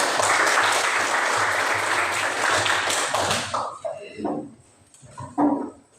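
Classroom of students clapping after a group's biology presentation, a dense burst of applause that breaks off after about three and a half seconds, followed by a few scattered claps and faint chatter.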